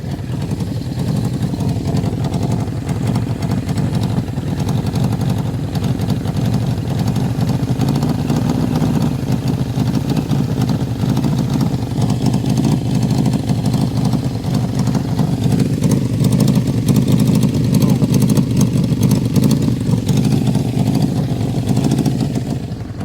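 Suzuki GS650GL motorcycle engine running steadily with an exhaust leak, a loud, continuous near rumble that holds evenly the whole time with no talk over it.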